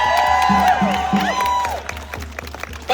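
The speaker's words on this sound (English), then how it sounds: "Give yourselves a hand." Crowd at a political rally in Tacoma applauding and cheering, with clapping mixed with loud whoops and shouted voices that ease off toward the end.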